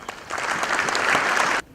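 Audience applause at a leadership summit breaks out right after a speech, a dense steady burst of many hands clapping that holds for over a second and then cuts off sharply.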